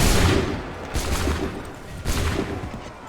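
Soldiers fire musket volleys in Assassin's Creed 3, with a big crackling fusillade at the start and two further ragged volleys about a second apart, each trailing into echoing rumble.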